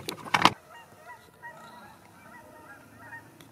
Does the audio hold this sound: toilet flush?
no